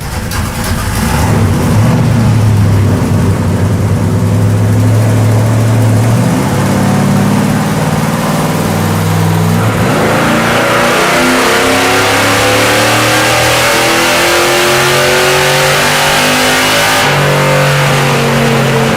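Drag car built for ice drag racing, making about 285 horsepower on heavy mud-and-snow rear tires, revs hard in repeated rising sweeps with a loud, gnarly engine note against steady broadband noise and no talk.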